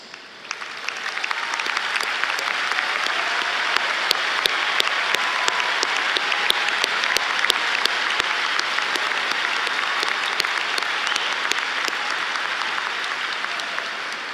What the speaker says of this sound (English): would our parents and guardians please stand and may we give you a round of applause